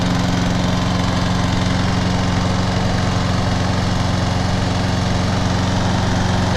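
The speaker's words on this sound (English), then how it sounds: "Engine sounds good." A John Deere JS35 walk-behind mower engine idles steadily nearby, a loud, even low-pitched drone with a constant hum throughout and no voices.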